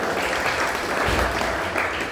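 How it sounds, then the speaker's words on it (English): An audience applauds a speaker being introduced, a brief, dense burst of clapping at moderate volume that lasts about two seconds. "Tad, a round of applause."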